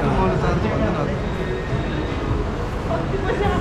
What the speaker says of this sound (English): it's the train.